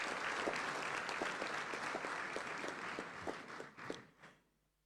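A parliamentary assembly applauds a pastor, a dense burst of many hands clapping that carries on steadily and then tapers off and fades out.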